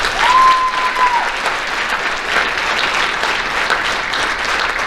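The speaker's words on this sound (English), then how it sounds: "Let's give these ladies a round of applause" A banquet audience gives the qualifying girls' athletes from Muleshoe a steady round of applause at a high school athletic banquet, continuous crowd clapping throughout with a faint tone near the start.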